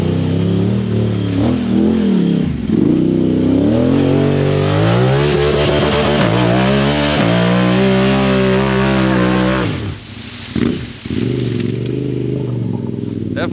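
A Honda Talon side-by-side engine revs hard while climbing a dirt hill, loud close roaring with rising and falling pitch, throttle surges and a brief drop near the end.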